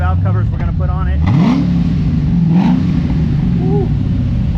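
An LSG62 car engine revs hard during a test drive, rising in pitch through sweeping throttle blips over a steady loud rumble, with excited voices speaking over it.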